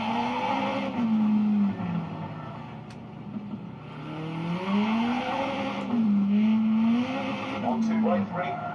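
In Gran Turismo 5 on the PlayStation, played with a wheel and modified brake pedal, a race car engine revs up and down through gear changes while tires squeal in long sweeping skids, loud and continuous.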